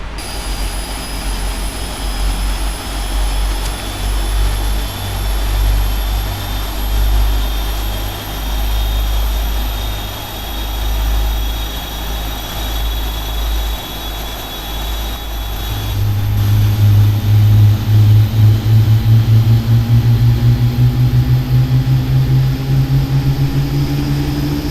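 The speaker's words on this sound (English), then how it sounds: "Just going to start the aircraft here, and you can also start this aircraft with both engines at the same time" Simulated jet engines of a PMDG Boeing 777 spooling up in Flight Simulator X, a steady whine and rumble that rises midway as a second turbine tone climbs in pitch, loud and continuous, no talking.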